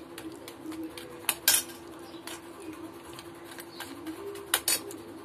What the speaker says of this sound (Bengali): সবকটা বড়া নেড়ে চেড়ে সব উলটপালট করে ভিজিয়ে দিচ্ছি